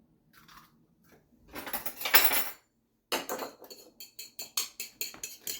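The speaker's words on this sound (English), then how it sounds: "So we'll beat the egg." A single egg being beaten in a bowl with a utensil, first a burst of scraping and then a quick run of clinking whisking strokes against the dish, close up, with no talking.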